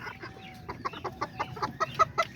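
Blue-feathered backyard chickens cluck in a quick, rising series of short calls, close and clear, growing louder toward the end with no voices.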